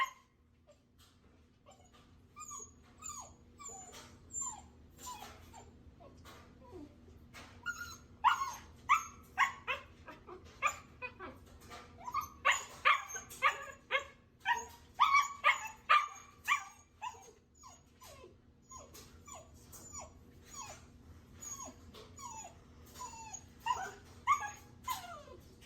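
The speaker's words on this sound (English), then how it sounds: "And then here is the video of the husky puppy" A husky puppy whimpers, yips and barks through restraint training, the cries starting sparse and building into a dense run of sharp, close barks and whines, with a steady low hum behind and no talk.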